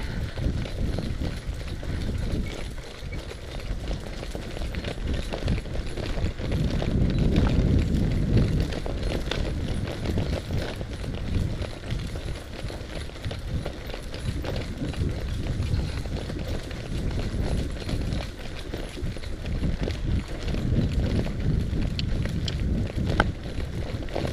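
A horse cantering outdoors, its hooves drumming in a steady loping rhythm on the ground under continuous wind noise at the microphone.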